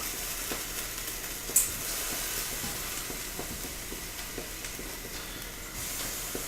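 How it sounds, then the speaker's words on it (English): Frozen basa fish fillets sizzle steadily on an indoor grill lined with lava rocks, a soft continuous hiss with faint crackles and one brief sharp pop, heard close and with no talking. "Good sizzle."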